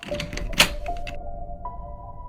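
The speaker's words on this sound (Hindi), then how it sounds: "अंबर किचन में आई और उस दरवाजे की तरफ बढ़ी। उसने भी उसे खोलने की बहुत कोशिश की" Sound effect of a locked door being tried: a few dull thunks and rattles of the handle, then a faint lingering hum, quiet and close with no voices.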